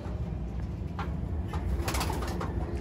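A bird calls amid steady low background noise, a few soft hoots or coos close by.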